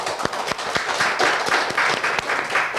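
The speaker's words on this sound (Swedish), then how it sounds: "En applåd för båda lagen." Audience at a village quiz match applauding both competing teams, a dense steady round of clapping with a few sharper nearby claps standing out, held at an even level throughout.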